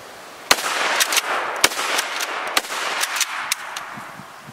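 A Mossberg Shockwave .410 shotgun fires a series of sharp, loud cracks at irregular intervals over a steady hiss of outdoor background noise. No talking.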